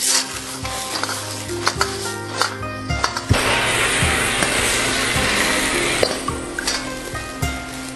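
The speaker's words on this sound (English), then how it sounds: "Add the meat slices, stir fry quickly a couple of times, and remove from the pan immediately" Pork slices stir-fried in sweet and sour sauce in a pan, giving a steady loud sizzle with scraping stirs and clinks of utensil on metal, no talking.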